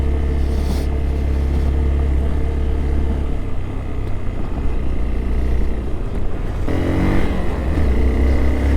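A vehicle engine labors in first gear up the steep, rough Umling La pass at high altitude, a loud sustained rumble that shifts pitch as it strains and revs, with no talk.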